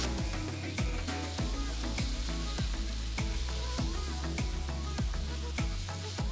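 Chilli paste sizzling into rice on a tawa for Mumbai street-style pulao: a loud, steady frying crackle with a spatula hitting the hot griddle in a fast, even, repeated beat, close by and without speech.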